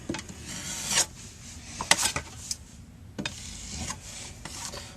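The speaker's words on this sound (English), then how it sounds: "just let the other knife lay off the wall and just take the excess mud off" A drywall knife scrapes excess setting mud off a wall in short, gritty strokes, with a few sharper scrapes standing out over a steady rasping background at moderate volume.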